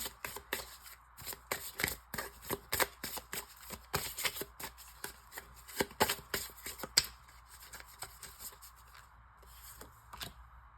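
A deck of tarot cards is shuffled repeatedly up close, quick crisp riffles and flicks in an irregular rhythm, fairly quiet and with no talk over it.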